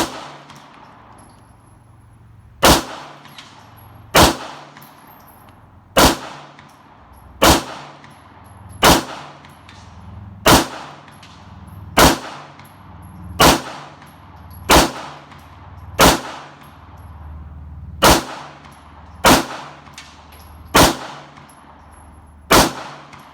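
Beretta 92FS pistol fired in a slow, even series of about fourteen sharp, loud gunshots, each followed by a brief decay, with no talking between shots.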